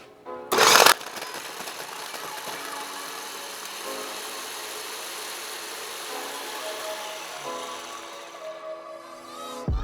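Motorized grinder pulverizing ingredients for homemade scented laundry detergent, opening with a short loud burst and then a steady mechanical whir running continuously, fairly close, with no talking.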